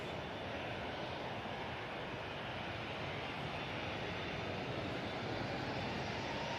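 A small airplane departs Manchester Airport on a windy day, its engine a steady broadband roar, distant and moderately loud, with continuous wind rush and no talking.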